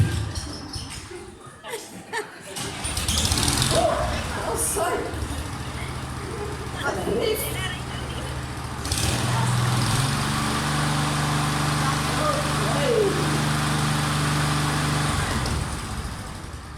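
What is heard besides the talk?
lawnmower engine starting and running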